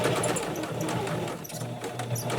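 A sewing machine stitches female Velcro onto a 31-inch fabric strip for a face mask, running as a steady, close, continuous whir with no pauses.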